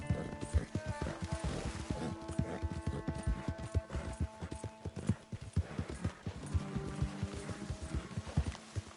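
A horse gallops in the Red Dead Redemption video game, its hooves beating a quick, steady rhythm for several seconds at a moderate distance, with a brief neigh-like cry mixed in and no talking.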